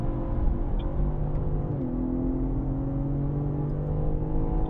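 A BMW M car's engine drones steadily on the Sonoma Raceway circuit, easing briefly as the driver lifts off the gas to turn, then climbing back under throttle, loud and close from inside the car.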